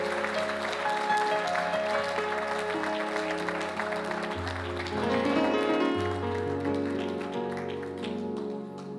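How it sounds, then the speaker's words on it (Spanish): A church congregation applauds, a dense patter of clapping mixed under sustained music with steady chords, continuing throughout at moderate volume. "¿Qué tal si damos un aplauso mientras ellos pasan y todos nos ponemos de pie?"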